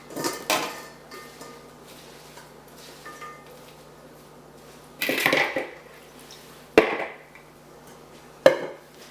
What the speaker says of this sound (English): So then you can transfer your kale over to another bowl to make your salad in.